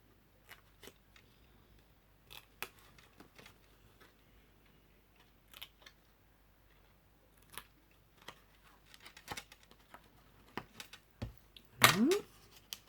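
Scissors trimming the corners of paper for a scrapbooking explosion box, quiet scattered snips and clicks close by, with a louder rustle of paper near the end.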